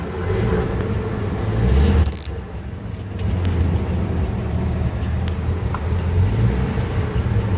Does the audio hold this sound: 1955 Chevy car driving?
yes